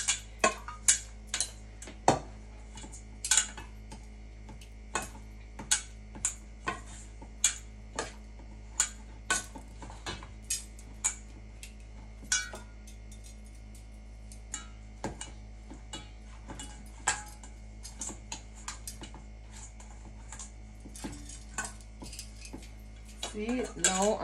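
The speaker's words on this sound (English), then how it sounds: "this is how you make the dough with spoon" A spoon stirs and beats dumpling dough in a bowl, producing sharp repeated clinks and scrapes in an irregular rhythm over a low steady hum, close up with no talking.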